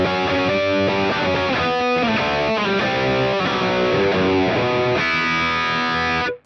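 Distorted electric guitar through a Mooer Cab X2 pedal with Twin Reverb cabinet simulation, strummed chords ringing loudly and alone, then cut off abruptly at the end.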